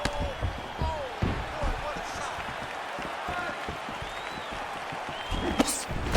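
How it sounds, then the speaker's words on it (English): A fight crowd reacts in bursts of cheering and shouts while punches land. A commentator talks over the steady arena murmur, and sharp thuds break through now and then. "you hear the crowd react every time they come together"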